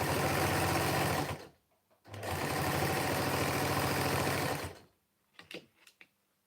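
A sewing machine runs steadily in two long bursts of even, rapid stitching, stopping briefly between them, followed by a few faint clicks and handling noises.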